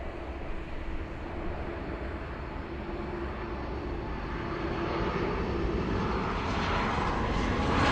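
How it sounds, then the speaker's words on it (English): A Lufthansa Airbus A380 jet airliner on its way to Munich roars past at LAX with a broad, continuous rumble that swells gradually louder over several seconds, with no talking. "Lufthansa 453, the flight heading back to Munich. It's a big one, big A380."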